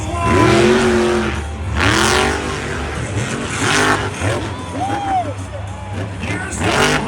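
Monster trucks race around an arena in Salinas, California, with loud engine roars and revs rising and falling in several surges, mixed with a crowd and a busy announcer talking over the action.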